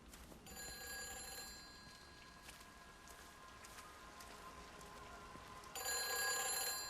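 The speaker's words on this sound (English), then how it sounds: "because I could still hear that phone" A telephone rings in the video game Everybody's Gone to the Rapture, sounding as a steady tonal bell over soft rain-like background hiss, with the ringing growing louder near the end.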